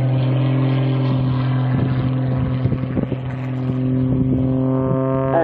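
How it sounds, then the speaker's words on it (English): Aerobatic propeller aircraft engine at full power during an air show at Old Warden, a loud sustained droning roar with steady tones that waver slightly mid-way and then pick up again. "he'll give you a demonstration of the pure power of that engine by hanging on the propeller"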